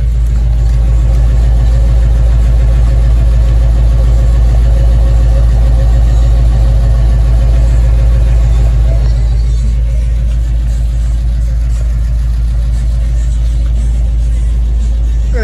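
A 1978 car with a brand new exhaust runs steadily at idle, a loud, continuous low rumble that holds even throughout, easing slightly quieter in the final seconds.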